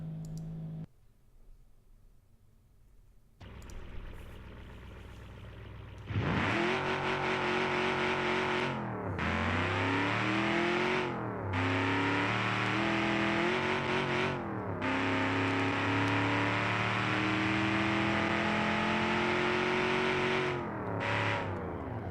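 A 1969 muscle car engine in a racing video game revs loudly and steadily, rising through repeated gear shifts with short dips between pulls, after a quiet start, no talk.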